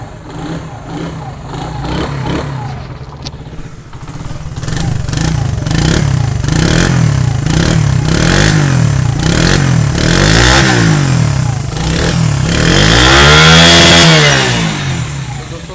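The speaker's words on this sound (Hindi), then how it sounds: "तो दोस्तों बाइक को हम स्टार्ट करते हैं, स्टार्ट करके अब इसका साउंड सुनते हैं।" Honda CD 70 motorcycle engine starting up and running, loud and close, with repeated throttle blips and revs rising and falling over a steady idling putter.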